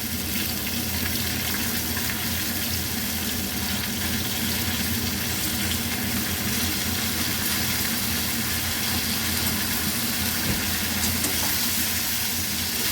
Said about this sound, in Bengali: আবারও একসঙ্গে ভালো করে আলু বরবটির সঙ্গে কুমড়োর শাক ভালো করে নেড়ে নেব।